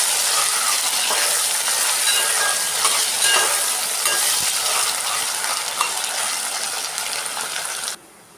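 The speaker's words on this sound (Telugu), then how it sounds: "ఇప్పుడు కలుపుకోవాలి." Ingredients are stirred in a pan over steady, loud, hissing frying noise with occasional soft scrapes, continuing for several seconds before abruptly cutting off near the end.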